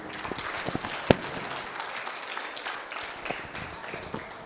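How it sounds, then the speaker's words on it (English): Audience at a youth seminar in Hyderabad applauding a speaker: scattered, thin clapping from a smallish crowd, with one sharp loud clap standing out near the start and sparser individual claps trailing off afterward. "We welcome Didi with big round of applause"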